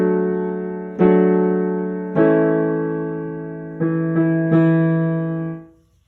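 Piano playing a song: five sustained chords struck one after another at a slow, uneven pace, each ringing and decaying before the next, clear and close with no voices.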